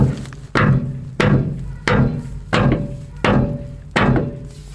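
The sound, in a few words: tapping supports into place with a hammer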